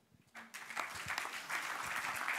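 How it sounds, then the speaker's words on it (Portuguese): An audience at a talk event bursts into applause that starts with scattered claps and quickly builds into sustained, fairly close clapping. "ele merece mais uma salva de palmas"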